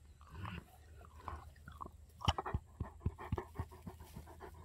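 A dog pants close by in quick, soft breaths, mixed with sharp clicks and crunching bites, with no talk over it.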